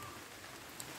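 Rain falls steadily on plants in a quiet, even hiss, soft and continuous, with no voices.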